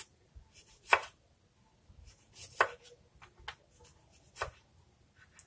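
A knife slices cucumbers thinly on a cutting board, making a few crisp, close chops at irregular intervals with softer taps between them and no talking.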